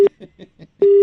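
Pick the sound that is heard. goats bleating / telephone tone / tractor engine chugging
telephone tone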